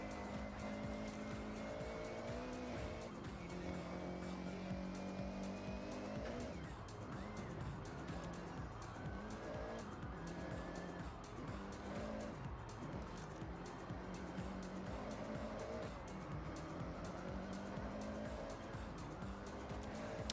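Race car engine in Forza Horizon 6 roaring steadily downhill on an elevation-heavy sprint track, with rising and falling revs through gear shifts and a brief tire squeal where the e-brake catches a switchback.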